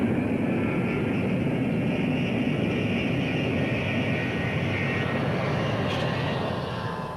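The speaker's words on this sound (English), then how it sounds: "We gave it the power and took off," Early jet airliner engines roar at high power for takeoff, a loud, sustained broadband rumble and whine holding steady throughout, with no speech over it.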